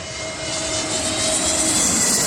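A Jet2 Airbus A321neo jet departs, a loud steady engine roar with a high whine that swells slightly over a couple of seconds, with no voices over it.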